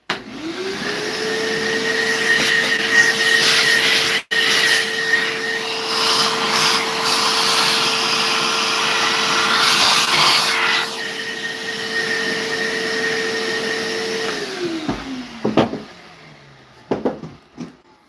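A lathe spins a turned cherry bowl while it is resanded, giving a loud steady whine with a droning hum that winds down near the end, followed by a few scattered clunks.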